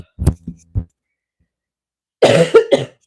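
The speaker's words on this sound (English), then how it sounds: "I have to cough again." A few short coughs, then a pause of silence, followed by a harsher burst of two or three louder coughs close to the microphone.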